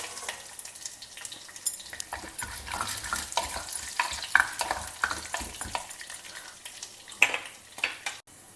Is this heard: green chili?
yes